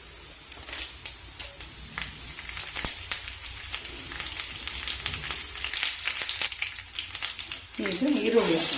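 Mustard seeds in hot oil in a wide pan, a steady crackle with sharp scattered pops growing busier over several seconds, and a voice speaking briefly near the end.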